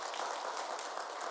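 A church congregation applauding to welcome newcomers, a steady dense patter of many hands clapping together, moderately loud and continuous with no talk over it.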